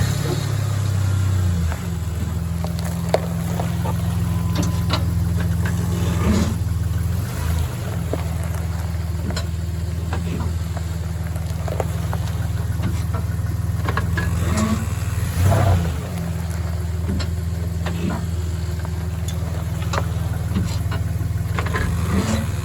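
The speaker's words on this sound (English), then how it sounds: "We're gonna run it over the truck." A truck engine runs in a steady low rumble while the vehicle rolls over a Modlite PLHv2 flashlight, with a few faint knocks and clatters over the drone.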